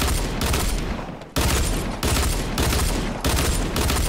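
Continuous heavy automatic gunfire in a video game, loud and near, with sustained bursts broken by brief gaps as the shooter rushes an opponent.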